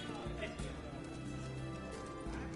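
Horse hoofbeats galloping on a mount in the video game The Witcher 3: Hearts of Stone, a steady low clatter running under a character's speech throughout.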